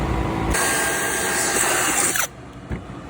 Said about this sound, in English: So this is just drilling pre-holes for the screws that we're gonna screw into the bottom?